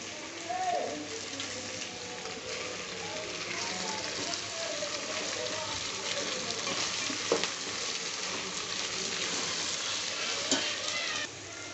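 Mixed vegetables and green chillies frying in a pan for veg pulao, giving a continuous, moderately loud crackling sizzle with occasional stirring clicks, steady throughout and close by.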